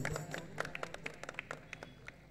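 An audience applauds singers at a Shivaji birth anniversary celebration, a short burst of sharp, uneven hand claps from a small nearby crowd, fading after a couple of seconds.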